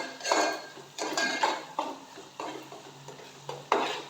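Onions and green chillies fry in a pan for a dried prawn and ridge gourd curry, with a steady sizzle under repeated scraping and clinking stirs about every half second, close and moderately loud.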